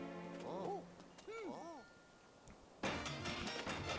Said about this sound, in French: Oh le bazar et les cloches de Mario Chat